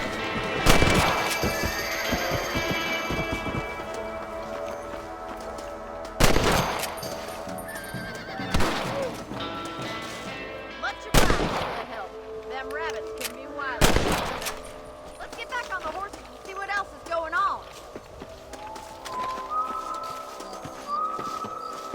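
Gunfire in the video game Red Dead Redemption on Xbox 360: several loud, sharp shots spaced a few seconds apart, with horse whinnies, hoofbeats and bird calls in the background of an outdoor game scene.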